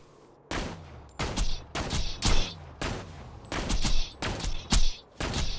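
Bursts of video game gunfire from a Borderlands-style shooter with a sniper rifle, about eight sharp, loud, separate shots spaced roughly half a second to a second apart, each ringing out with a short tail, no talk.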